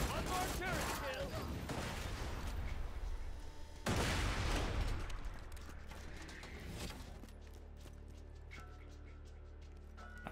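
Rapid bursts of sentry turret gunfire in Borderlands 2, dense and loud for the first several seconds with a sharp break near four seconds, then thinning into scattered mechanical clatter and softer game sounds.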